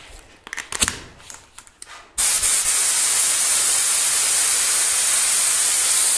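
A few faint clicks and handling noises, then a spray gun with a restricted needle, used to paint a bike, bursts on with a loud, steady hiss that holds without break.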